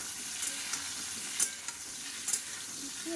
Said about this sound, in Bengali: এই আলুটা ভেজে নিলাম একটু হালকা করে এর ভিতরে এবার ওলগুলো দিয়ে দেবো ওলটাও এর সাথে একটু ভেজে নেব